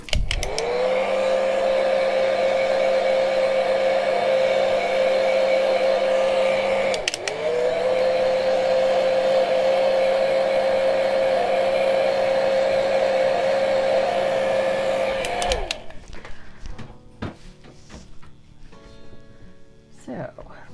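A hair dryer blows steadily to dry paint on a painted tag, loud and close with a whining motor hum, briefly dipping once midway before switching off near the end, leaving quiet handling sounds.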